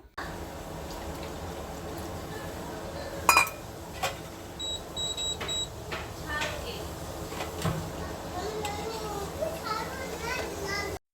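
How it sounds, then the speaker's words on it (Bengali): A young boy plays with someone at home in a middle-class household, giving steady background chatter and small household knocks, with a sharp clatter near the start and scattered bumps and beeps throughout. "আমার ছেলে ওর সাথে খেলছে"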